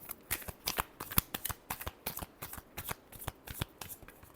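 A deck of tarot cards is shuffled briskly up close, a rapid run of crisp riffling flicks in uneven bursts with no voice over it.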